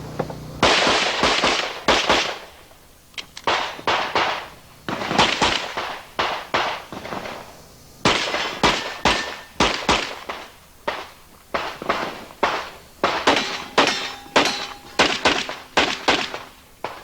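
Rapid strings of gunshots ring out at a USPSA practical shooting competition. The sharp cracks come in fast bursts with short pauses between strings, loud and close, continuing throughout.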